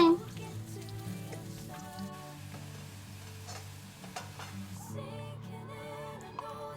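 Onions browning in a pan for a homemade paneer curry in a home kitchen, a soft steady sizzle heard faintly under background music.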